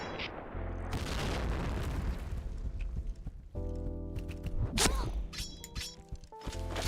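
A grenade goes off in a video game as a heavy, booming blast amid scattered gunfire and clattering game effects, with a sharp peak midway through.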